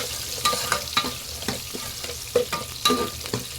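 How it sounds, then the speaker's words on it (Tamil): Shallots and crushed garlic sauté in a pan for a Tamil fish curry, with a steady sizzle broken by several sharp stirring scrapes and clinks, close and alone without talk. "ஸோ இப்போ இதை நல்லா வதக்கிடலாம்"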